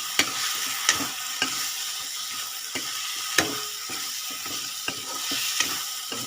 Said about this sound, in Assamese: দি অলপ দেৰি এনেকৈ ভাজিম